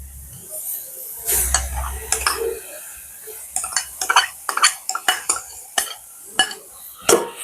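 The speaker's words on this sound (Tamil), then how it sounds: "இப்போ இதுக்குள்ளே வந்து உருளைக்கிழங்க போட்டுக்கொள்கிறேன்." Diced potatoes go into a pan of curry, followed by a run of sharp, close metal spoon scrapes and clinks against the pan, irregular and quick, with a faint sizzle underneath.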